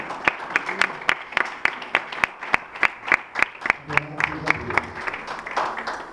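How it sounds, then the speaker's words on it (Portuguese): A church congregation claps in joyful praise, with sharp, fairly regular hand claps sounding close and loud while faint voices and a low tone murmur underneath. "aplaudam o nome de Jesus com alegria"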